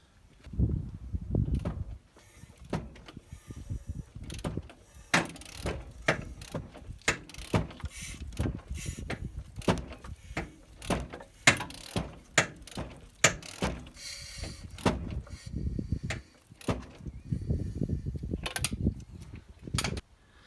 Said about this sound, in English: just need to turn the crankshaft over now by 2 revolutions